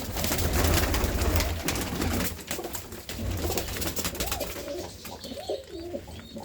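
Healthy pigeons coo in a loft, a dense, close chorus of low throaty calls with wing flutters and rustling, no voices present.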